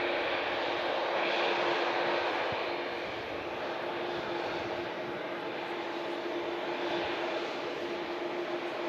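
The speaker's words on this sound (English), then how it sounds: "Virgin Atlantic lining up as the TUI Dreamliner vacates" At Manchester Airport, a Virgin Atlantic A350 lines up while a TUI Dreamliner taxis off the runway, producing a steady, moderately distant jet engine rumble with a faint sustained whine and no talking.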